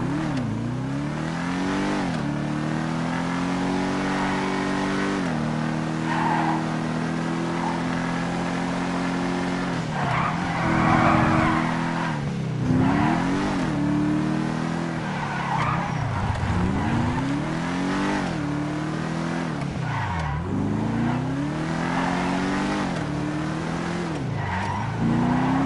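A two-seater video game car, the Pigtail, tops out around 121 mph and drives with a steady engine drone that repeatedly revs up and drops back, along with bursts of tire squeal, loud and continuous.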